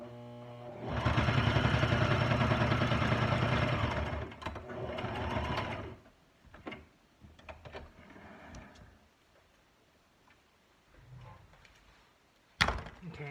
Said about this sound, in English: my sewing machine is right over here.